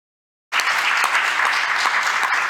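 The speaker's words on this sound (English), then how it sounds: "nice warm applause for you" Silence breaks into warm audience applause at a university colloquium on higher-education language policy; the clapping swells in abruptly and holds at a full, even level to the end.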